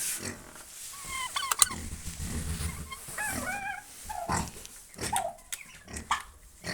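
Several turkeys gobble in bursts close by, with rustling and clucking between calls and a noisy outdoor background.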